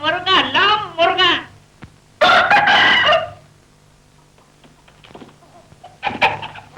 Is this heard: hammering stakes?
no